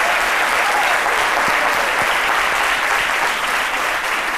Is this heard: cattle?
no